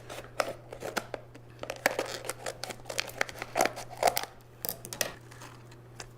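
Scissors snip open plastic packaging around a Java fern water plant, taking care around the leaves: faint, close, irregular cuts mixed with soft crinkling and rustling, with no voices.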